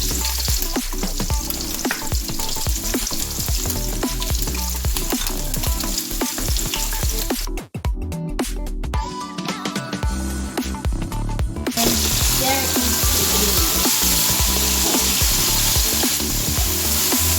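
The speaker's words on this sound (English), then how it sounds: "Now allow it to fry for 2 minutes." Tomatoes frying in a pan for a plantain and egg breakfast, a steady loud sizzle with stirring scrapes throughout, briefly dipping midway before the crackling fries on.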